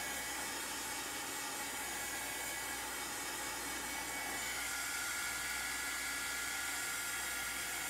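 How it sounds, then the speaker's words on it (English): A heat tool drying chalk paint on a small craft pillow blows hot air in a steady, even whoosh with a constant motor hum, running without pause and close by. "So I'm just drying it. I'm using my heat tool."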